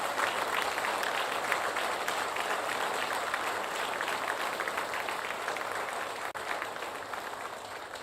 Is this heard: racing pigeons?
no